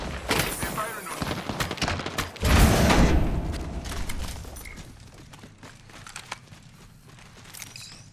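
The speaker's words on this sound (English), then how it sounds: "I am taking fire, friends. Here we go. I need heavy ammo. They're firing on me." Gunfire from the video game Apex Legends: a dense burst of rapid shots, with a heavy loud stretch near the middle before it thins into scattered clicks and mechanical rattles, under a player talking.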